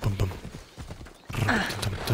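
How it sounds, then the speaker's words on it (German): A horse gallops in Assassin's Creed Odyssey, quick rhythmic hoofbeats at moderate volume with game ambience, picking up and growing fuller near the end. "Cassandra reitet irgendwo hin, wahrscheinlich da hinten, da rauf"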